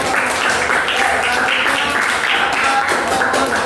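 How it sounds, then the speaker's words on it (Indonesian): Steady crowd applause, a dense continuous patter of many hands clapping at even loudness throughout. "Oke, tepuk tangan untuk"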